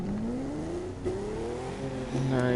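A car engine in the racing video game The Crew 2 revs steadily upward, pitch climbing through a gear, then dips briefly and climbs again with a louder surge near the end, heard alone without talk.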